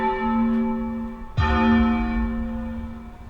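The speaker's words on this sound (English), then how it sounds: "I hit the bell with a paintbrush." A large bell in the video game Ikenfell is struck once with a paintbrush, ringing out with a loud clang over a sustained, humming musical drone, then decaying slowly with a shimmering tail.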